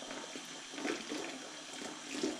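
Tap water running steadily into a sink while dishes are washed, a continuous close hiss and splash with a few brief louder gurgles.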